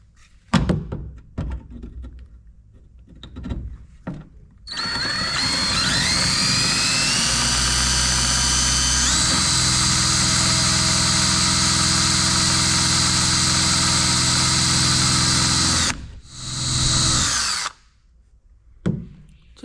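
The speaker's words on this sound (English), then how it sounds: "let's see if the old drill has any luck" An old power drill with a dull bit bores into the door of a 1965 VW Beetle, whining steadily for about twelve seconds with a shifting pitch, preceded and followed by clunks and handling noises.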